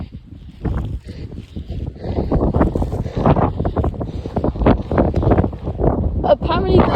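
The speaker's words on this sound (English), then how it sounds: "Oh, it's windy up here." Gusty wind on top of Binsey fell in the Lake District, Cumbria, buffets the microphone in loud, uneven low rumbles that swell and ease, while people talk over it.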